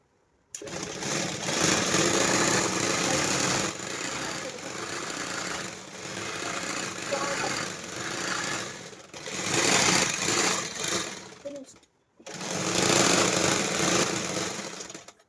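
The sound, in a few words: sewing machine stitching pants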